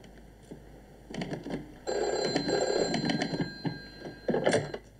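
A telephone rings in a French thriller scene, with several bright electronic ringing bursts in a row, fairly close and clear, against a quiet room with no talking.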